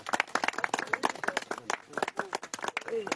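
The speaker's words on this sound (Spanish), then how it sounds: "Aplausos, señores" Audience applause at a night-time community festival, brisk uneven clapping with shouts and voices mixed throughout, fairly close and lively.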